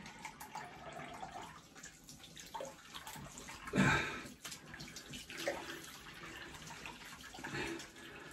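Water running briefly from a tap into a sink while rinsing during a shave, a faint hiss with one louder splashing swell midway, quiet and close with no talking.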